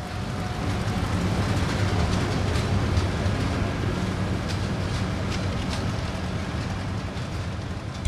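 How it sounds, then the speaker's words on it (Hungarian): A MÁV M41 diesel locomotive train approaches with a steady broadband rumble and rolling noise, fairly loud and unbroken across the whole stretch, no voices over it. "Hát ez egy M41-es csörgő jön most"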